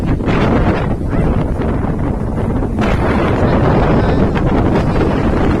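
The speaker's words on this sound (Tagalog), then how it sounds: "Sobrang hangin talaga, guys." Very strong typhoon wind during Typhoon Paeng roars and buffets the microphone in a loud, continuous broadband rush, with no talking.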